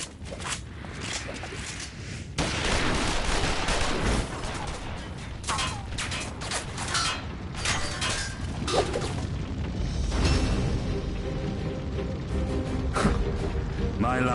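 Gunfire and booming blasts in a Final Fantasy XIV battle scene, bursts of shots and explosions running continuously through dense game music and effects, fairly loud, with voices speaking over the din.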